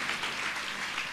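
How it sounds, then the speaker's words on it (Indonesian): Congregation applause at a Sunday church service: a dense, steady wash of many hands clapping, moderately loud and even throughout a brief burst. "Mari berikan tepuk tangan ya."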